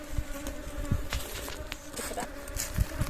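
Honeybees buzzing steadily around a homemade horizontal Langstroth hive as it is closed after an inspection, a close, continuous drone with individual bees flitting past and occasional soft knocks.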